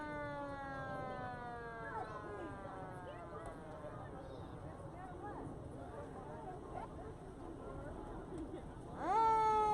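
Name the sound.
distant emergency vehicle sirens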